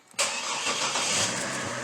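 A Chevrolet Trailblazer with 200,000 miles starts up: a brief crank catches into a loud, rough, steady idle that fills the rest of the moment, close by and without speech.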